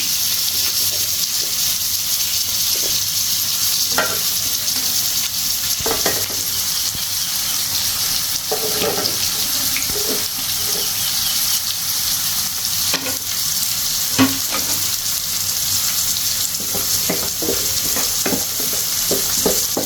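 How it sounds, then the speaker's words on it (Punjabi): Chopped onion frying in a little oil in a pan, a steady sizzle and hiss running throughout with occasional stirring clinks and scrapes, close and fairly loud. "ਥੋੜਾ ਆਇਲ ਪਾ ਕੇ ਜਿਹੜੇ ਪਿਆਜ਼ ਆਪਾਂ ਇੱਕ ਜਿਹੜਾ ਪਿਆਜ਼ ਵੱਡਾ ਵੱਖਰਾ ਕੱਟਿਆ ਸੀ ਉਹਨੂੰ ਆਪਾਂ ਸੇਕ ਲਗਾਉਣਾ ਹੈ"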